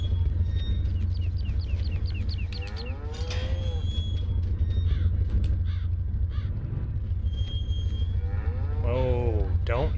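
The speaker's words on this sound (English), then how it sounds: "I need to go check on the cow-calves here quickly" Cattle and calves moo repeatedly in a Farming Simulator pen, several drawn-out calls overlapping above a steady low engine hum, with a few sharp bird-like caws mixed in.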